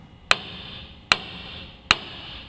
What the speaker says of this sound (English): we're going to use a hammer, hit this part of the spindle, and it'll break loose from the ball joint